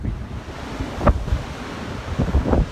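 Rough, stormy sea swells about ten feet high roar and slap under buffeting wind, with a few sharper wave crashes in a short, steady, fairly loud stretch.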